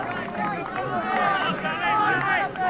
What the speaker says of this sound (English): The crowd urging on Waterford Crystal at this stage.